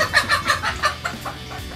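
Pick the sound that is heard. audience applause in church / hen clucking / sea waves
hen clucking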